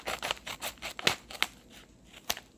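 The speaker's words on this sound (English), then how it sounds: "I'm just going to take the scissors and cut it straight off." Scissors snipping through a freeze-dried meal pouch, a series of quick, sharp close-up cuts in an uneven rhythm, quiet overall with a few crisper snaps.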